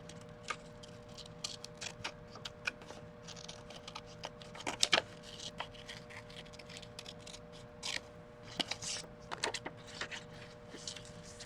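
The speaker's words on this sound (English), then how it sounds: "Try to keep your scissors as like stable as you can and turn everything else. It just makes for a neater cut." Scissors snipping around a printed paper napkin image for a mixed media art journal, a series of faint, close, irregular crisp snips and small paper rustles, alone with no talk.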